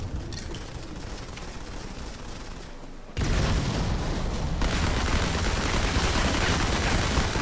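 Gunfire rattles through a match of the mobile shooter Modern Combat 5, starting as a softer crackle and then jumping into loud, continuous automatic fire that runs to the end.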